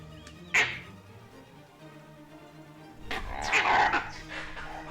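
A pack of wild dogs attacks a leopard, with a sharp yelp followed by a burst of growling, snarling and yipping a few seconds later, heard from moderately close.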